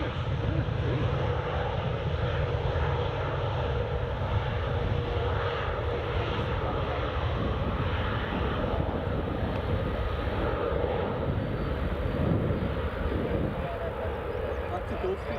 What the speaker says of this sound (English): That's a Gulfstream starting as well, I'm sure.